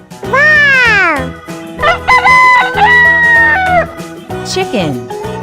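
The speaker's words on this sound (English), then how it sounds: "Chicken." Crowing from a wooden animal sound toy, a loud cock-a-doodle-doo repeated in a couple of drawn-out calls over light background music, close and clear with no voices.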